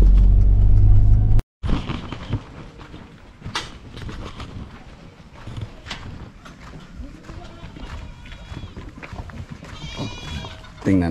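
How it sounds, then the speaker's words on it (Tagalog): Goats bleat on a farm in California among other livestock, scattered calls near and far over rustling and handling noise, with people talking at times and a brief loud burst at the start. "Tingnan natin kung gaano karami ang kanyang kambing."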